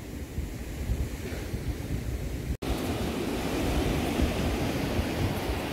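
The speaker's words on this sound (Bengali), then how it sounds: "আর এখানে রক্সের উপর এসে সমুদ্রের ঢেউগুলো পড়ছে" Sea waves at Srivardhan beach in Maharashtra break against rocks in a loud, continuous roar mixed with heavy wind buffeting the microphone, with a brief dropout in the middle.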